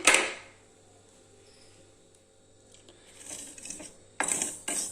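Roasted pearl millet grains poured out of a hot pan in a home kitchen, a short crisp rattle at the start, then quiet, with more scattered grainy clinks and a final louder spill near the end.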